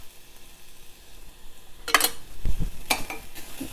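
Tadka sizzling in a pan on a low flame during plant-based Indian cooking, with short bursts of frying hiss and a few clinks of a utensil against the pan, close and moderately loud.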